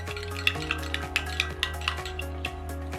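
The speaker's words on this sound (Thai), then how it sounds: "จากนั้นนะคะคนคิมเทียมกับน้ำชา รวมกันเลยค่ะ" A spoon stirs non-dairy creamer into tea in a glass, making steady, rhythmic clinks and light scrapes against the glass at close range, with no talking.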